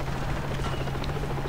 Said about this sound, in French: Un hélicoptère maintenant.